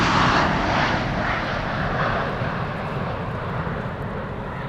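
A jet airliner takes off from the Polderbaan runway at Amsterdam Schiphol during rain showers, a loud, steady broadband roar that stays strong throughout and eases only slightly toward the end, with no talking.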